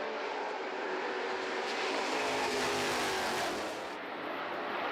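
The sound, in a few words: Formula 5000 race cars racing at Pukekohe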